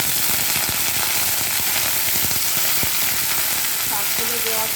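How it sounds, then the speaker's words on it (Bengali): Onion and garlic fry in hot oil with a loud, continuous crackling sizzle, close up, dense popping and spatter filling the whole stretch. "পেঁয়াজ রসুনটা লাল লাল করে ভাজা হয়ে গেলে তার সঙ্গে 5 ফোড়ন আর ওই শুকনো লঙ্কা ভেজে নিয়ে"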